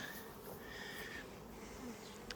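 Honey bees buzzing steadily throughout a beehive inspection at an apiary, a dense continuous drone close by with no talking.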